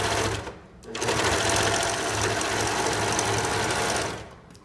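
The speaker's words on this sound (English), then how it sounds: "Just make sure that you are sewing all the fabric so they don't end up having a little hole in their crotch." A sewing machine stitching fabric for bloomers runs in one long, steady, loud burst that slows briefly near the start and stops just before the end, with no talk over it.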